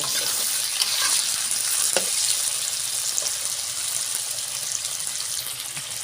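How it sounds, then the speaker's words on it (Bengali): Salted green banana and potato pieces sizzle steadily in hot oil in a pan, stirred throughout with scrapes and light clinks, a loud continuous frying hiss with no talk. "সুন্দর করে নাড়াচাড়া করে কলাটা আলুটা আমি ভেজে নেব।"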